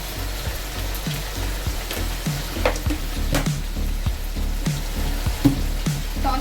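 Egg chicken fried rice sizzles loudly on high flame, with a steady crackling fry and rhythmic scraping stirs in the pan throughout.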